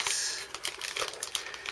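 A plastic packet of tear and tape being opened, close and quiet crinkling with rapid irregular crackles and small pops, no voices.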